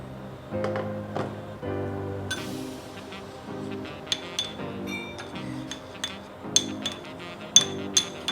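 A spoon stirring cocoa powder and hot water in a glass bowl or cup gives a series of light, sharp clinks, sparse at first and then quicker, over a soft tonal background.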